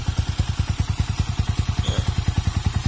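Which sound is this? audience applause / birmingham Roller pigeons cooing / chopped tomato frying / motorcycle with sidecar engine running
motorcycle with sidecar engine running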